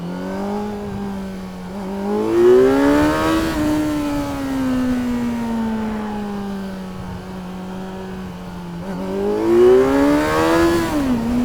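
A 2024 Kawasaki Z900 motorcycle engine revs hard, its pitch climbing in two strong surges with a long steady drone between them, loud and close throughout with no talking.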